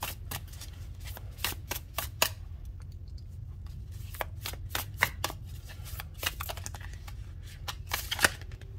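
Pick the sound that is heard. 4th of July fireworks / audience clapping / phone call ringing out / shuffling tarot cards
shuffling tarot cards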